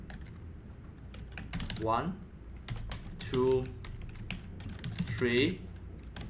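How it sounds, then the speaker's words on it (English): Quick clicking keystrokes on a computer keyboard, a scattered burst of taps while a synthesized voice speaks a few words in between. "I will just type it here."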